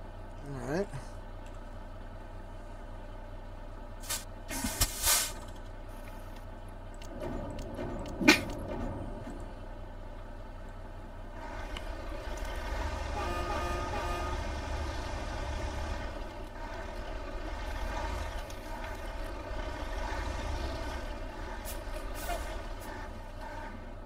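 A logging truck in the Spintires video game rumbles along with a low engine drone, with sharp air-brake hisses bursting out twice early on, while people talk over it.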